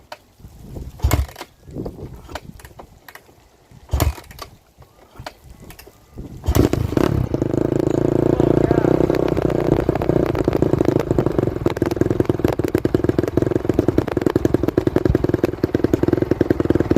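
Honda CRF250R dirt bike engine, a few sharp clicks and thumps before it fires, then a steady loud idle runs on for about ten seconds close by.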